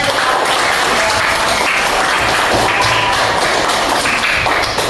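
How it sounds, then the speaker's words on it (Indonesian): Students in a classroom give a round of applause, dense, loud, continuous clapping from a group close by, sustained evenly throughout without talk. "Beri tepuk tangan."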